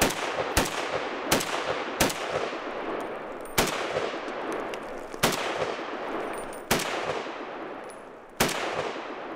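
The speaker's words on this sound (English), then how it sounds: "Their weapon of choice, the infamous AK-47, also known as the Kalashnikov." An AK-47 Kalashnikov assault rifle fired as single shots, about nine sharp, loud reports at uneven intervals, each with a long decaying echo, with no talking.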